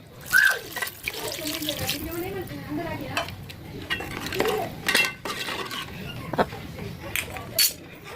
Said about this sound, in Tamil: இப்போ தண்ணியும் போட்டுக்கலாம்.